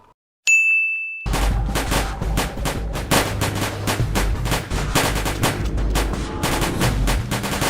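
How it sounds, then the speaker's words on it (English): A bright metallic ding rings out, then sustained rapid automatic gunfire erupts in the video game Adventures at Site-19, loud and continuous with dense overlapping shots to the end. "Alright everyone, open fire! Open fire!"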